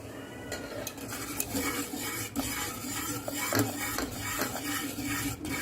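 Rice paste being stirred into boiling water in a cooking pot, a steady scraping and stirring with faint clinks against the pot and a soft bubbling background, continuous and close.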